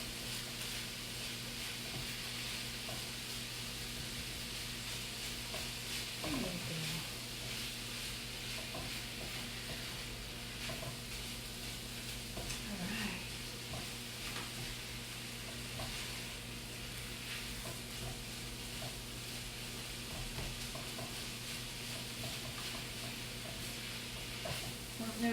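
Ground turkey chopped and stirred in a skillet on a stovetop, a steady sizzle and frying hiss throughout with occasional scraping and stirring sounds, no speech over it.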